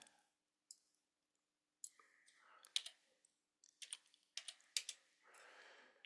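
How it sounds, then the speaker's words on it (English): Computer keyboard keys click in short, scattered taps, a few isolated presses followed by quicker clusters, close and fairly quiet, with soft breathing between them. "we're going to type in 6, comma 6"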